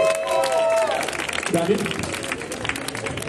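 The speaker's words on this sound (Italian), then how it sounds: "Un applauso a Democrossini!" A crowd at an outdoor treasure hunt in Mussomeli claps and cheers for an arriving team, mixed with shouting voices and a hubbub of babble.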